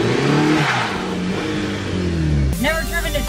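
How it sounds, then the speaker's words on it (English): A 2015 Honda Civic Si sedan engine revs under acceleration, rising in pitch before an abrupt shift near the end. The sound is heard from inside the car, with a voice talking over it. "you can hear the engine rev, you can hear the transmission change."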